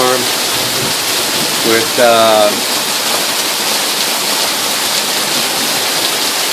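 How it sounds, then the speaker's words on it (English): A July thunderstorm at Tahoe drops rain and hail together, a loud, dense, continuous hiss of pelting drops and ice. A person speaks briefly near the start over the downpour. "It's raining, it's hailing."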